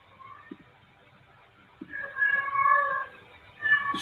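An excited house cat meowing close by, starting with soft taps and faint sounds, then a long wavering meow followed by another rising cry near the end, fairly loud and alone.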